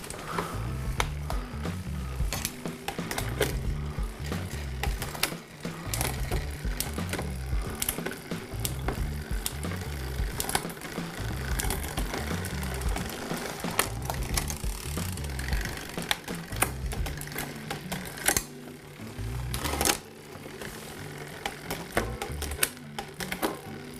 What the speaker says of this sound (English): move the shifter, just to make sure that it's moving one click and it moves one sprocket